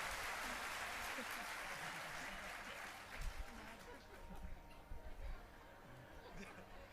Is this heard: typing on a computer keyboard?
no